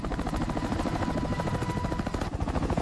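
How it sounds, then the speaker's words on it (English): A UH-60 Black Hawk helicopter flies past with dense, continuous rotor thumping layered over a turbine whine, loud and steady throughout with no voices. "The UH-60 Black Hawk may look bulky, but it still hits about 183 miles per hour."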